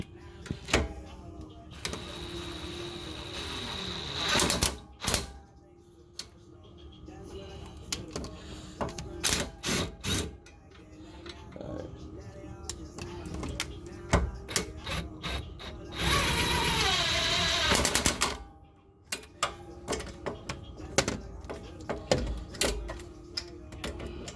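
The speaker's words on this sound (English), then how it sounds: "I'm gonna just hit it with the impact now. It's a 15 millimeter." Impact wrench driving a 15 mm bolt during a rear spring install on a 2011–2014 Mustang GT, with a loud, dense rattling burst near the middle amid scattered clanks and lighter tool handling noises around it.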